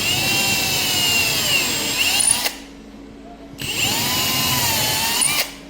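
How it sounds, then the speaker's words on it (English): A power drill boring small pilot holes through a poly panel, two loud, close bursts of high whirring with a short silent gap between them. "So let's go drill them out."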